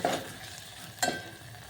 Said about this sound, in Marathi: तर आता टमाटा आणि कांदा भाजून घेते